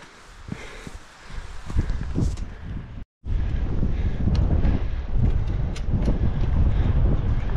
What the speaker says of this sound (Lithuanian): Vėjas pučia.